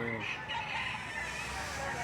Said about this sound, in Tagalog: napakaraming nakalatag na manok dito mga bossing